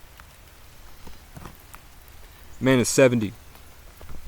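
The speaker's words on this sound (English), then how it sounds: "There's rain pouring on my fucking face right now, bro." Rain pours down outdoors as a steady, faint patter and hiss with scattered drop ticks, briefly covered by someone speaking a few words.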